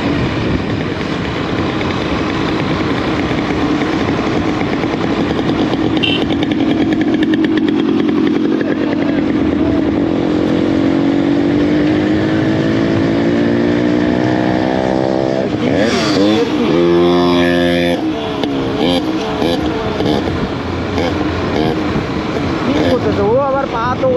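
A motorcycle rides through busy road traffic during the Durga Puja season. The engine drones loudly and steadily throughout, with other vehicles rising and passing close by and a horn-like burst near the end. People talk over the noise.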